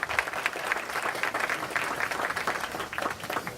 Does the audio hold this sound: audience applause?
yes